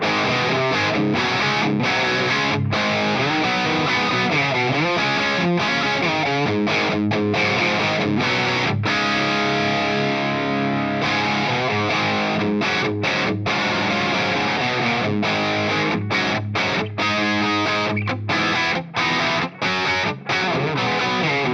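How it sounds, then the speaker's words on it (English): A heavily distorted electric guitar recorded through a load box plays chugging riffs and sustained chords, dense and loud, with a touch of room reverb around the tone. "you can use a room reverb"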